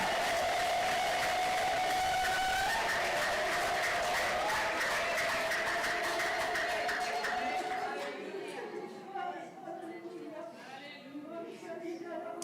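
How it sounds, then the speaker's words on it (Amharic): A congregation claps at a church worship conference. The sustained applause runs loud under voices and singing, then thins out toward the end. "አጨብጭበን እንስጠው።"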